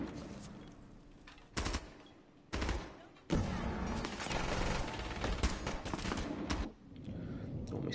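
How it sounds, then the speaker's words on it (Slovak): Bursts of rapid automatic gunfire ring out in a competitive video game match, in loud clustered volleys separated by short pauses. "Ešte tak sa tam strieľa s niekým v kúpelke."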